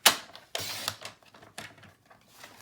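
A paper trimmer cuts cardstock down to 5 1/2 inches, close up, with a few short, crisp clacking strokes separated by brief pauses.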